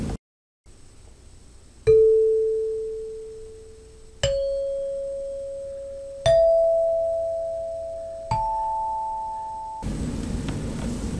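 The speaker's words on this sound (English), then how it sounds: "When we play individual notes on the chimes" Chimes are struck one note at a time. Four clear strikes follow each other at about two-second intervals and rise in pitch. Each rings out and slowly decays before the next. A burst of hiss follows at the end.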